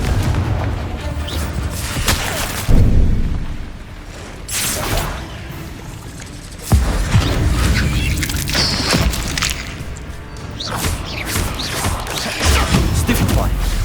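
Explosive Confringo spell blasts from the video game Hogwarts Legacy: several heavy booming bursts with crashing impacts, separated by short lulls, with talk over the action.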